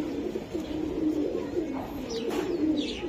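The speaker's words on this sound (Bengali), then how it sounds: "এটা একটা মাদি কবুতর ভাই" Soft cooing of a female racing pigeon repeats through the clip, low murmuring coos with some faint chirps above, no talking.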